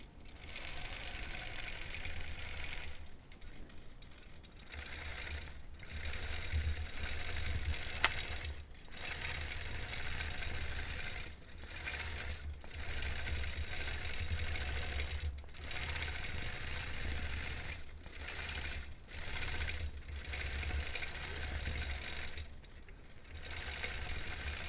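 A sewing machine runs in long steady bursts with brief pauses, stitching small curves with a short stitch length while a mini quilt is free-motion quilted; the motor hum is close and continuous with no talk.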